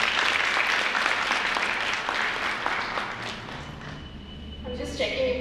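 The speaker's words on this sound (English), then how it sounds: "Let's give her a warm round of applause." Audience applause fills a hall at a sponsor-appreciation event as a speaker is welcomed, a dense sustained clapping that fades slightly toward the end as a few voices begin.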